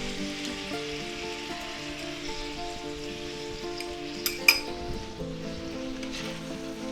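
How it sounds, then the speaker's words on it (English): Ground beef and vegetable stir fry sizzling steadily in a pan while being stirred, with a couple of brief utensil clinks partway through; no one speaks. "And we'll give it a good stir."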